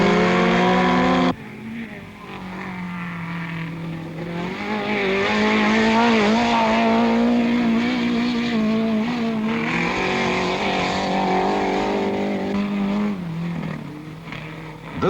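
Autocross race cars from the 1970s spin their wheels on a loose course, a loud continuous engine roar with rising and falling revs dominating throughout, joined after a brief opening by music-like tonal layers.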